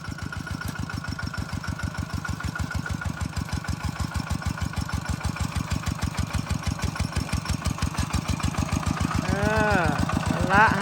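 A tractor engine runs during rice planting. Its steady, rapid chugging throb holds an even rhythm and grows slightly louder near the end, with voices faintly audible over it.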